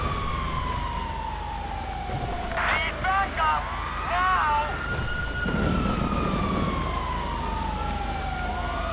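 A police siren in GTA V wails in long rising and falling sweeps at moderate distance over a low engine rumble, with someone talking over it.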